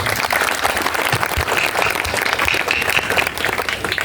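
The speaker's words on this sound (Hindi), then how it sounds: "आप सभी लोग एक बार जोरदार तालियों से स्वागत करें" A crowd at an outdoor political gathering in Khatima breaks into sustained, loud applause, dense steady clapping that fills the whole stretch without a pause.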